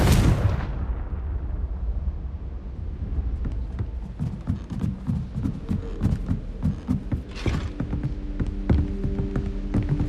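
A blast from the Confringo fire spell in Hogwarts Legacy opens with a sharp, loud burst, then fades into a low rumbling, throbbing combat din with scattered impacts.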